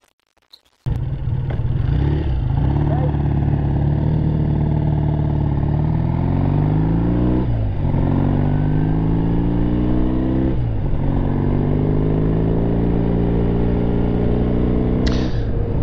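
A 1968 Triumph T120 Bonneville British motorcycle being ridden, loud and close, its engine starting then pulling steadily through repeated rising gear runs with brief dips at each shift, no talking.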